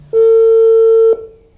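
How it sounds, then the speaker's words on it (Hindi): A phone call's ringback tone comes through a Bluetooth earphone as one steady electronic beep, loud and close, lasting about a second before it cuts off, with no talking over it. "देखो रिंग जा रही है।"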